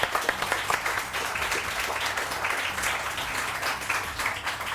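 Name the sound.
studio audience applause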